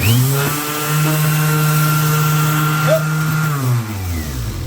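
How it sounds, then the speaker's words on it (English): An electric sander works over wooden shelf supports between polyurethane coats, giving a loud, steady motor whine close by that holds for about four seconds and then winds down. "So I'm going to go ahead and sand those, and we'll get another coat of polyurethane on it."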